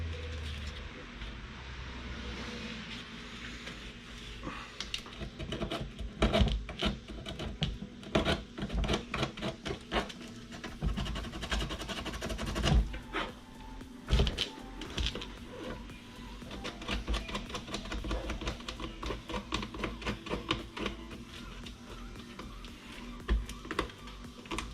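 Small piece of sandpaper worked by hand over a cracked car headlight lens, a steady run of quick rasping back-and-forth strokes up close over low background hum, with no talk.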